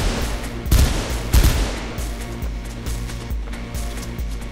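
Machine gun fire in the first-person parkour game Mirror's Edge: a couple of sharp loud shots, then a steady rapid rhythm of bursts, close and prominent with no talking.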